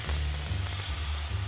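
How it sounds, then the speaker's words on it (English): A ribeye steak sears in a hot oiled pan, giving off a steady, loud, close sizzle that carries evenly through the whole moment with no voices. "put in my ribeye for a few minutes on each side and call it a day"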